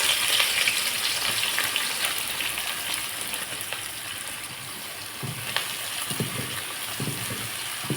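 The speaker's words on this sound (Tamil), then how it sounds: "நறுக்கி வச்சுருக்க வெங்காயத்தை சேர்த்துக்கலாம்" Chopped onions frying in hot oil in a pan, a steady, dense sizzle that carries on close up with a few faint stirring clicks near the end.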